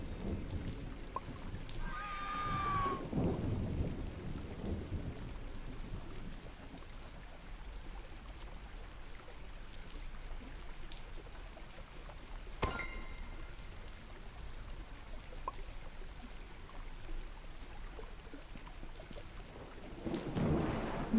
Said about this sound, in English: Oh, a storm.